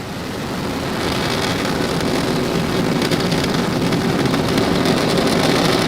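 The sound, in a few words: SpaceX Falcon 9 rocket engines roaring at liftoff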